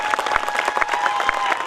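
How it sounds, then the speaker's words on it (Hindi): An audience at a Hindi patriotic poetry recital breaks into applause, dense sharp hand claps continuing steadily and fairly loud throughout. "एक बार तालियां बजाकर मुझे आदेशित करें"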